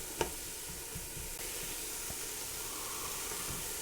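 Onions softening in a pot over medium-low heat give a steady, quiet sizzle and hiss, with a few faint taps near the start and no voices.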